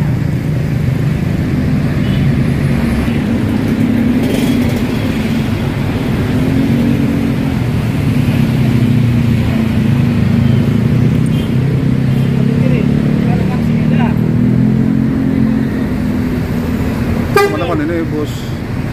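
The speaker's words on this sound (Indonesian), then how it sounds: "ini bus Medan Jaya Nokin 88 nya udah mau berangkat" Medan Jaya 88 bus, an Indonesian intercity coach, idles with a loud steady diesel drone, a short horn toot near the end, and people talking around it.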